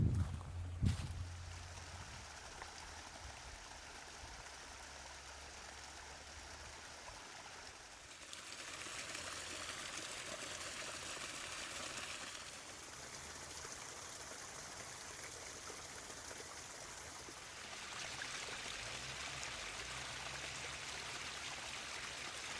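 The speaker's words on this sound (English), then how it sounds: "A natural waterfall." Natural waterfall beside an abandoned stretch of the Pennsylvania Turnpike, a continuous rushing hiss of falling water that swells and recedes in level as the listener moves, after a brief knock at the start.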